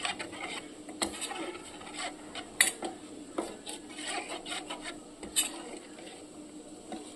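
Spice paste being stirred with water in a bowl, a spoon scraping and clinking against the dish in an irregular rhythm of light taps and knocks, close and fairly quiet, with no talking.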